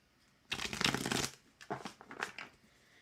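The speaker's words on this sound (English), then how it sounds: "Shuffling." Tarot cards are riffled in a quick flutter, then shuffled again in shorter bursts, close up and quiet with no talking.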